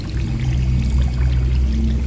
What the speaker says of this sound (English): Is the water gonna go down? The water's going down.